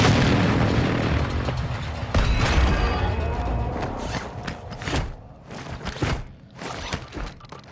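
Mortar shells from Call of Duty: Modern Warfare II burst in a loud, deep boom at the start, then another heavy blast and a string of shorter thuds and pops that fade into scattered distant impacts, with no talking.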